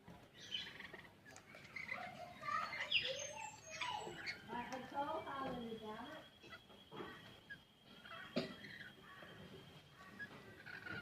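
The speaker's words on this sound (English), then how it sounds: "That's the cockatoo." Cockatoos call in the early morning outdoors near a beach, with a busy mix of chirps and squawks layered over one another at moderate distance, plus some quieter bird chatter in the background.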